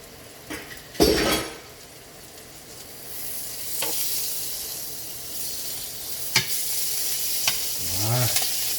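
Seitan frying in a generous amount of butter in a pan, with a steady sizzle and hiss broken by a few clanks of a utensil against the pan and a scraping stir near the end.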